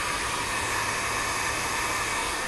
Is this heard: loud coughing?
no